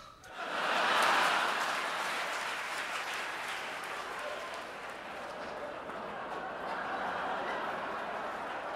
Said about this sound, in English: She had a big round of applause when she left